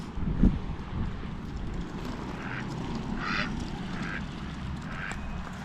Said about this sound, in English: They are huge ducks, aren't they?